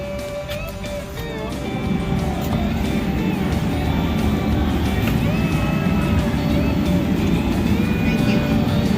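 RC cars race at an indoor oval track at a crowded event, giving a continuous high-pitched motor whine that rises and falls as they pass, with a busy crowd murmuring underneath.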